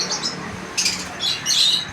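Small caged birds chirping and squawking inside a bird shop in Malir, Karachi, with bright overlapping tweets over a steady background hum, no talking.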